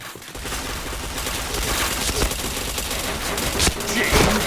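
Rapid video game gunfire in a shooter match, dense bursts of automatic shots and sharp cracks rattling almost continuously, loud and close.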